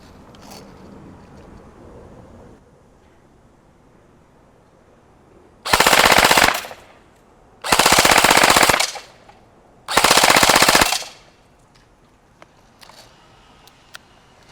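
A Helios Knight's Armament SR-16E Mod2 airsoft rifle on an 11.1 volt lithium polymer battery fires three loud full-auto bursts indoors, each a rapid buzzing rattle of about a second, separated by short pauses in a quiet room.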